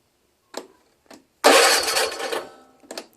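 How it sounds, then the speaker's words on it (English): Starter solenoid on a Kawasaki FC290V 9 hp engine fitted to a Scotts L17.542 lawn tractor: a few sharp clicks, then a loud burst of about one second of starter engagement and cranking, and one more click at the end. No voices. "turns out that the solenoid does work."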